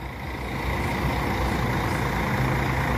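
Executive-class intercity coach on the Fortaleza to Recife route, a steady loud diesel engine rumble close by that swells slightly after the start and holds evenly, no talk.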